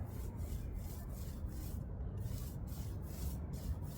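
A paint roller is pushed back and forth over a surface, making quiet, steady rubbing strokes that repeat roughly every half second with no talking.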